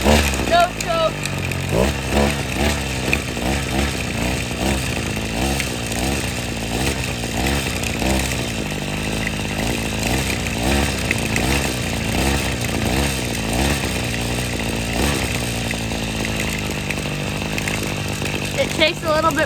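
A Redmax HEZ 3060 chainsaw starting from cold and warming up, its engine note rising and falling in repeated throttle revs, loud and close throughout, with no speech over it.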